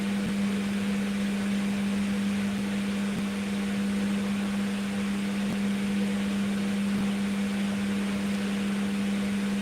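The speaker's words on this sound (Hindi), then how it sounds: "कूलर नहीं फैन भैया आवाज़ करता है" A noisy electric fan runs continuously indoors, a steady loud drone with a strong low hum and constant airy hiss, unchanging throughout.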